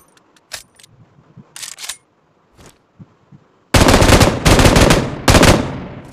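Gunfire from the PUBG Mobile battle game: scattered faint shots early, then a loud sustained burst of rapid automatic fire with a few short pauses, close and dominant.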